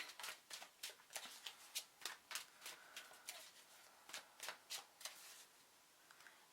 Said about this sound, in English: These cards are a bit stiff to shuffle, to be honest.